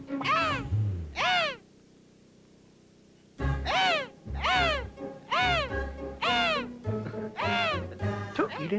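A person imitates a crow's caw at night, giving repeated nasal, rising-falling calls close by: two quick calls, a pause, then a steady run of about seven more.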